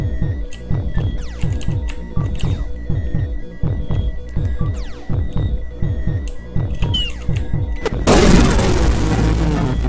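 A turret in the video game Heavy Bullets fires a steady run of loud, rhythmic gunshots with throbbing mechanical tones, then a louder, noisier burst near the end.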